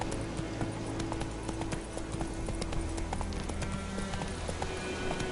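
Roach, the horse in The Witcher 3 video game, galloping with rapid, rhythmic hoofbeats on the ground, steady and close throughout over a low ambient rumble.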